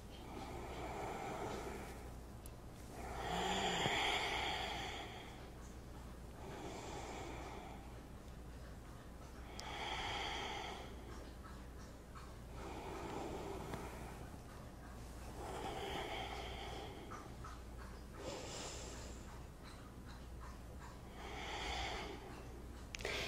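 Slow, deep breaths in and out during a seated yoga practice, each long airy inhale and exhale rising and falling in an even rhythm, close and soft with no talking.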